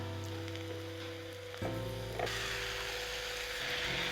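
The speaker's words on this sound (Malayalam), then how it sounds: "അപ്പം തക്കാളിപ്പഴം നമുക്ക് ഇതിനകത്തൊട്ടിട്ട് ഇളക്കാം." Chopped tomatoes tipped into a hot pan for a mushroom pepper fry and stirred, a sudden thump followed by a jump into steady hissing sizzle that continues, quiet and close, with no talking.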